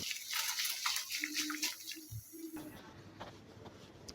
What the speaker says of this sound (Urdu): دیکھیں چاولوں کا پانی جو ہے وہ کھولنا شروع ہو گیا ہے۔